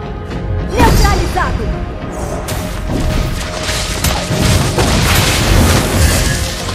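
Explosions and impacts ring out in Mobile Legends: Bang Bang gameplay, loud booming crashes layered over continuous battle noise, with a voice speaking over parts of it.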